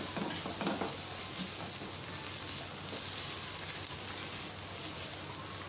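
Onions sizzling in a pan with garlic ginger paste just added, a steady crackling fry with light stirring scrapes, moderately close and continuous, no talking.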